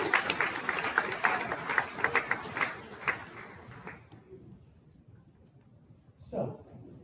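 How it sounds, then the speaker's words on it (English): Applause from an audience at a medical residency graduation for new physicians, fairly quiet and steady clapping over the first four seconds that fades out, with a brief voice-like sound near the end. "Would you give them a round of applause?"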